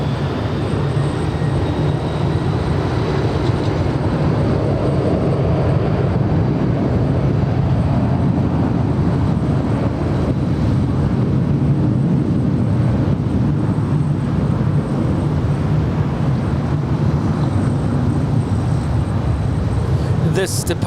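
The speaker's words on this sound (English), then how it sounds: "this departure is Delta 420 departing to Boston. It's a 757-200" A Delta Boeing 757-200 jet departs LAX bound for Boston, a broad roaring rumble sustained for the whole stretch, heard from a spotting position at some distance.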